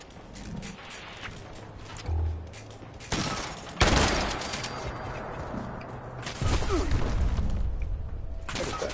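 A shotgun fires in the video game Fallout 76, several heavy blasts and bursts of gunfire at uneven intervals amid a rumbling, chaotic game soundscape, loud and close.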